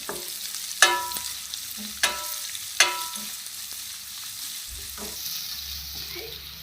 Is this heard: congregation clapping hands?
no